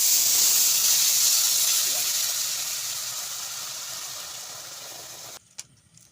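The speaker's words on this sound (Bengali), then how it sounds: "তো এখন আমি এই যে মাখনটা ঢেলে দেব।" Butter poured into a hot karahi to make ghee, a loud steady hiss that fades gradually over several seconds before cutting off, with a faint clink at the end.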